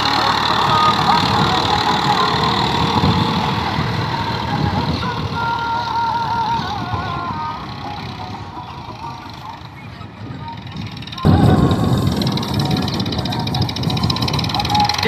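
A small 35 hp Massey Ferguson 1035 DI tractor engine runs steadily at a low idle-like rumble, close and continuous, with a brief louder surge near the end; someone talks over it throughout.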